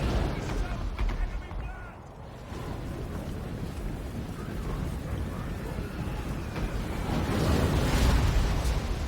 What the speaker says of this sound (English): My Goblin Rock Lobbers, I think, are firing over here.